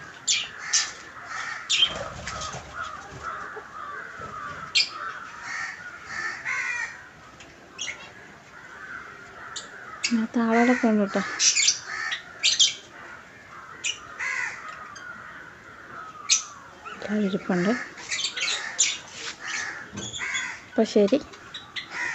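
Crows caw loudly and repeatedly close by a nest, harsh calls coming in bursts, while a person talks in between.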